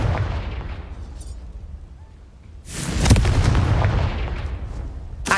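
A Confringo spell in the Hogwarts Legacy video game goes off as a loud, booming explosion. The blast follows a quieter rumbling stretch and then rolls out with crackling debris and no talk.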